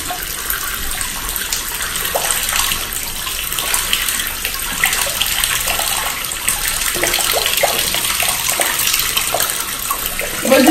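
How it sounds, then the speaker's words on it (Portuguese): A shower runs water into a bathtub in a loud, steady, close rush with light splashing throughout. "Vou desligar o chuveiro porque a gente encheu demais"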